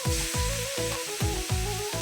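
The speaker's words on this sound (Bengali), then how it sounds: "চিংড়িগুলো তেলের মধ্যে ছেড়ে দিলাম।" Prawns sizzling in hot oil in a wok-style pan, a loud steady crackle with a few rhythmic scraping strokes of stirring, no voices.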